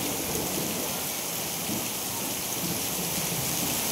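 Heavy rain pours steadily on an afternoon during a thunderstorm with lightning, a dense continuous hiss with low rumbling thunder mixed into the downpour, loud and close throughout.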